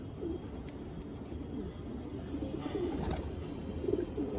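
Andhra and Madras pigeons coo steadily in a loft, low rolling calls repeating throughout under faint background noise, without speech.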